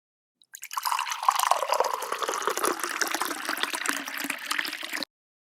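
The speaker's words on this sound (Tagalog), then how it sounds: "na-drain ko na yung tubig na kailangan kong tanggalin sa loob ng radiator" Water drains from a central heating radiator in a steady, close trickle and splash for several seconds, starting abruptly and then cutting off.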